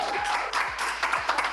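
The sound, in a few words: live esports crowd applauding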